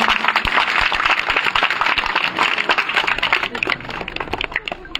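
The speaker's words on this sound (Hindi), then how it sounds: "एक बार आप सब लोग जोरदार तालियों से स्वागत।" Crowd at a nighttime political gathering in Chhipabarod for Naresh Meena claps loudly in a dense, sustained burst of applause, many hands crackling together close by with some voices mixed in.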